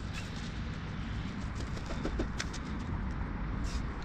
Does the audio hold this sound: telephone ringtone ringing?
no